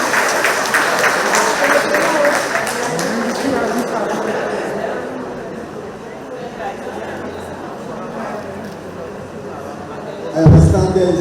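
A seated crowd at a retirees' association monthly meeting in a community hall breaks into sustained applause, strong at first and gradually thinning, with chatter mixed in and a sharp knock near the end.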